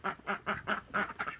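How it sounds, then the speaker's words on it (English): Runner ducks quack in a quick run of about six nasal calls, evenly spaced and fairly close, with nothing else heard around them. "the runner ducks from Tractor Supply"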